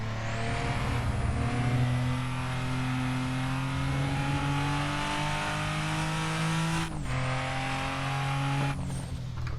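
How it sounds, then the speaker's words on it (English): A turbocharged Supra engine in Assetto Corsa at Mugello revs steadily and loudly with a whistling turbo whine, briefly dropping and climbing again twice, continuous and close. "You can hear the turbo spooling up"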